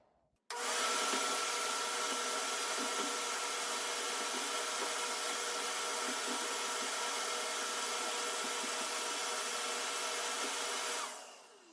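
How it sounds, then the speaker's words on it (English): A vacuum cleaner switches on abruptly and runs with a loud, steady whooshing roar while sucking ash from a masonry fireplace and chimney, then cuts off near the end. "we're going to want to turn on our vacuum cleaner"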